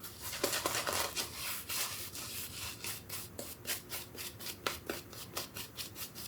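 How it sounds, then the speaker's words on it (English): An aluminum safety razor scrapes through lathered stubble in short repeated strokes, close and quiet, with a quick rhythmic rasp and brief pauses between passes. "And then we're gonna start shaving."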